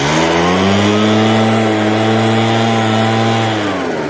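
A blower running loud and close, a steady motor drone with a strong humming tone that shifts slightly in pitch and eases off at the end.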